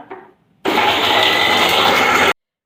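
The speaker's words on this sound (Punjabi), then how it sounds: "ਆਪਾਂ ਹੁਣ ਇਹਨੂੰ ਕਰਦੇ ਆ ਪੀਸਦੇ ਆ ਤੇ ਪੀਸ ਕੇ ਕਰਦੇ ਆ ਤਿਆਰ" An electric grinder grinds spices for homemade chaat masala. A short knock comes first, then the motor roars loud and steady for nearly two seconds before cutting off abruptly, with no talking.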